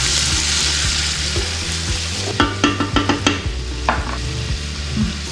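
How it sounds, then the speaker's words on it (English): Bacon rendering in a pan, a dense continuous sizzle with a run of sharp clicks and scrapes from stirring partway through, close and fairly loud, no talking. "Alright, so our bacon is rendered"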